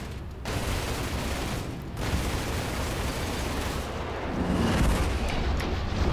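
Ballistic cannons fire during a Star Citizen space dogfight, a continuous loud stream of rapid shots and impacts with brief gaps, building in intensity toward the end.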